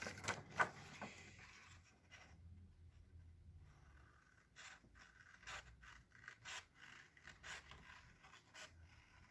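Scissors cutting through paper while making a snail-shaped Christmas tree craft, heard as a series of short, quiet rasping snips and scrapes close by, with no talking.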